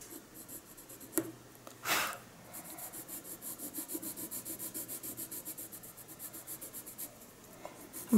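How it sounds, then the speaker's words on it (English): A white colored pencil burnishes a colored pencil drawing with rhythmic, close scrubbing strokes in a steady back-and-forth pattern, preceded by a few light taps and a brief louder rub. "let's do some burnishing now, see what we end up with"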